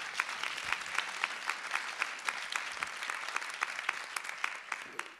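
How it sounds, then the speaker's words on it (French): A seated audience at a French talk event claps warmly together. The applause is a steady, dense patter of many hands with brief louder peaks, lasting about five seconds. "Mathieu Ricard, vous pouvez applaudir, bien sûr."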